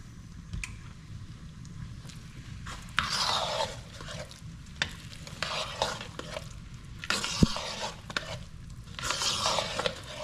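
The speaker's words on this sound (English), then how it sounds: "That's why it's named Tun Cornmeal, because you have to continuously stir." Cornmeal being stirred steadily in a pot on the stove for tun cornmeal, a soft scraping and squishing stir that repeats in bursts over a low background hiss, with no talking.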